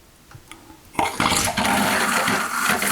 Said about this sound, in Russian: Сейчас, по идее, должна пойти холодная вода.